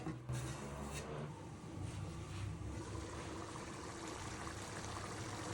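Water poured into a pan of spiced black-eyed beans (lobia): a steady, close wash of splashing and gentle sizzling that runs unbroken for several seconds, with no talking.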